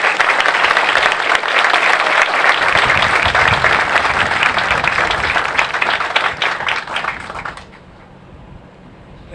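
Audience applause welcoming a university president at a health innovation center dedication, loud, dense clapping from a crowd that holds steady for several seconds and then fades out.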